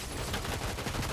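Dense, continuous gunfire in a video game, a rapid burst of overlapping shots filling the brief moment.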